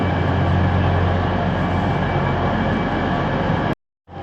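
An Azuma passenger train at London King's Cross station gives a steady, loud engine rumble and hum close by, running continuously before cutting off abruptly near the end.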